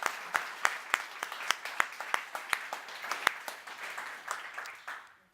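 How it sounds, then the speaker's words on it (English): Audience applause after a talk on digital participation, a modest scattering of distinct hand claps, fairly quiet and irregular, tapering off toward the end. "Applause. Applause."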